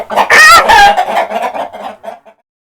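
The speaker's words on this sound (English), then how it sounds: "What are chickens doing here?" Chickens cluck and squawk up close in a loud, agitated flurry, then settle into softer, scattered clucks before falling quiet.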